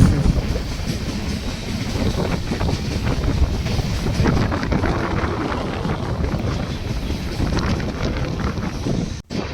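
A train running toward Erraguntla junction station on the Nanded–Tirupati route, a steady loud rumble of wheels and carriages with wind buffeting the microphone throughout, briefly cutting out near the end.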